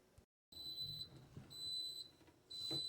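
Three short, evenly spaced high electronic beeps sound from a rice cooker over a low background hum.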